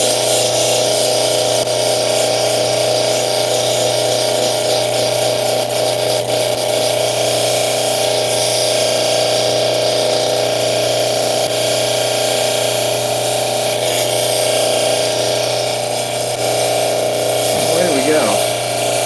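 A lapidary cabbing machine runs continuously with a loud, steady motor hum and whine while an estate stone is polished on its 14,000 grit wheel, with a brief rising scrape near the end.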